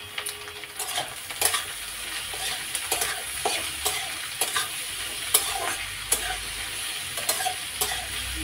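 Large halved prawns fry with vegetables in a pan for pasta, a close, steady sizzle punctuated by repeated metallic clinks and scrapes of a spoon stirring.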